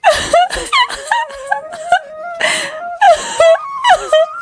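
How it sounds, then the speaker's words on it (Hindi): A woman in a dense forest sobs and wails in broken, high-pitched bursts with short pauses between them, close and loud. "इतने घने जंगल में भला कौन रो रहा है?"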